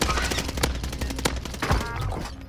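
Rapid bursts of video game gunfire crack out in a dense, overlapping fusillade, loud and close throughout, with several sharp shots standing out against continuous in-game noise.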